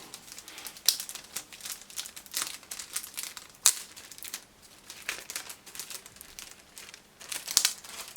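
Sticky tape and packaging are peeled off an RC plane's box with crinkling, irregular tearing and rustling, close and fairly loud. Occasional sharper snaps stand out, and no one speaks.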